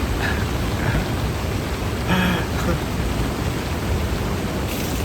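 Heavy rain pounds down on the Ibo river in a continuous loud wash, with a few brief tonal chirps and knocks poking through and a faint voice at moments; no distinct thunder stands out.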